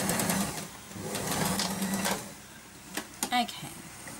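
A sewing machine stitches a short back stitch through fabric for a concertina fabric book binding, a brief close whirring run under a talking voice, followed by a few small clicks.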